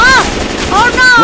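Gunfire in Left 4 Dead 2, loud and close, in rapid short bursts mixed with whistling, tonal game sounds.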